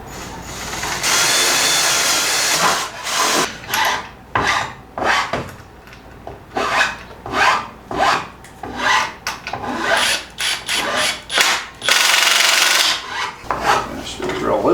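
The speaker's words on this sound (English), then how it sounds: "I should be able to drill a hole in here" Rough rasping and grinding from a tool working wood while a convertible couch-bed frame is built in a van, a loud steady stretch that breaks into repeated surging strokes, with no talk.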